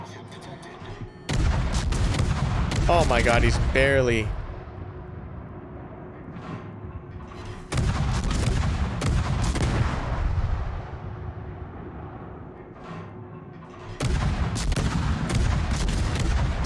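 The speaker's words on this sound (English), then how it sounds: "Love hearing all those cannons." Warship cannons boom in World of Warships naval combat, heavy artillery salvos arriving in loud bursts with rumbling tails and quieter gaps between volleys, while someone talks excitedly over the gunfire.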